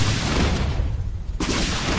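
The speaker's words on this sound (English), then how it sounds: "A photon cannon going up, but it gets taken down." A photon cannon being destroyed in a StarCraft match, a dense burst of rumbling explosion and weapon fire that briefly drops out before another blast kicks in, loud and close.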